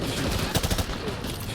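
Rapid gunfire from the video game Call of Duty: Modern Warfare 2, a dense burst of shots packed close together at steady loudness over a short stretch.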